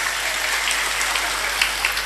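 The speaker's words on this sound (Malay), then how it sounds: "tepuk tangan" Steady applause from a crowd at a live religious gathering, an even wash of clapping with no break, heard from some distance.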